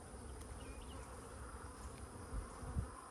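Honey bees buzz steadily around brood frames in a managed hive, a continuous low droning hum with no talking, a couple of brief louder bumps near the end.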